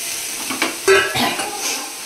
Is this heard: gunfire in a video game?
no